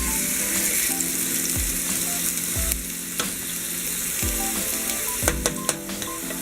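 Fish pieces sear in a frying pan for a curry fish stew, a steady loud sizzle with intermittent scrapes and clinks of utensils against the pan, no voices.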